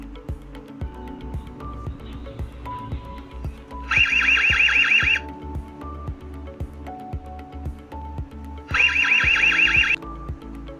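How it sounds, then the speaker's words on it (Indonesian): An Ezviz C6CN baby camera sounds a bright electronic alarm tone in two bursts of about a second each, separated by several seconds, over a steady rhythmic background of music-like beats. "bunyi yang akan keluar dari kamera"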